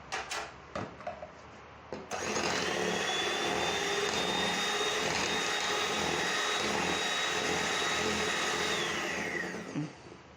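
An electric hand mixer beats chocolate cake batter with lemon juice and salt added. After a few clicks and knocks it starts up and whirs loudly and steadily up close for about eight seconds, then stops.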